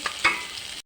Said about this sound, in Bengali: আর এদিকে আলু পটলটা ভেজে নিচ্ছি